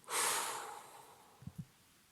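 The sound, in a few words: deep breath and strong exhale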